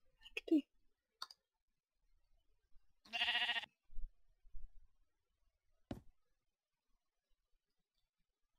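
Black sheep in the Minecraft video game, a single short bleat with a buzzing, wavering tone, heard amid sparse clicks and small thumps in a quiet scene.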